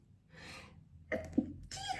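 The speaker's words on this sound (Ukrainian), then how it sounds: "Господи, ще й чихати почала." A woman sneezes quietly during her morning skincare and makeup routine: a sharp inhale, then a short breathy burst close to the microphone, followed by a soft exhale.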